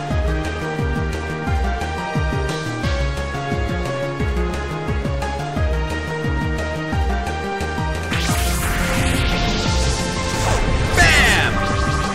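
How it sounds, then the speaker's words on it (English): Attacks land in the Pokémon Battle Revolution video game as a loud, close sequence of smashing hits and whooshing effects, with the busiest burst of impacts near the end over continuous layered game audio. "A smashing blow!"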